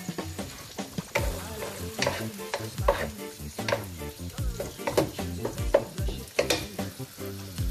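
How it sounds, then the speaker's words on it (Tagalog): Monggo with seasoning being sautéed in a pan, with rhythmic stirring strokes and clinks over a steady sizzle, close and clear with no talking. "Igisa lang naman natin para maluto."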